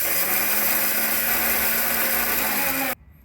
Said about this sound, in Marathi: मिक्सरच्या भांड्यामध्ये भरडसर असा वाटून घेऊयात